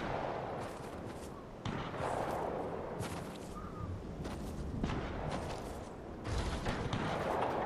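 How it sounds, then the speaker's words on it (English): Fortnite gunfire and sniping: repeated sharp shots and bursts at moderate distance, spaced through a busy battle soundscape, fairly faint overall. "They're shooting at us"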